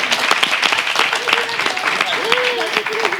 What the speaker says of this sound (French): Applaudissez Léon.